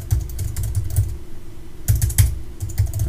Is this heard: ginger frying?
no